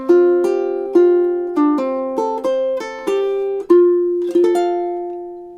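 A ukulele and an acoustic guitar play a gentle melody together, short plucked notes ringing out in a steady measured rhythm, close and clear with no talking.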